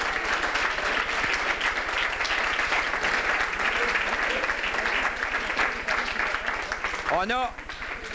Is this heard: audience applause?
yes